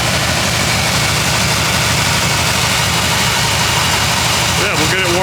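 A turbocharged 5.7-liter 350 engine with throttle-body injection and an aftermarket fuel pressure regulator runs loudly with a constant low rumble close by, while someone speaks over it.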